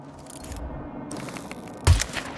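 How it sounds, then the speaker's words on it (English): A game explosion in Hitman 3 at a Siberian Russian prison: a low, booming blast with a sharp onset near the end, over steady ambient rumble and faint mechanical noise. "That was quite the explosion"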